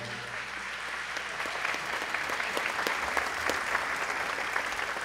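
An audience applauds a brass quintet at a religious music festival concert: a dense, continuous wash of many hands clapping, steady and moderately loud throughout with no voices standing out.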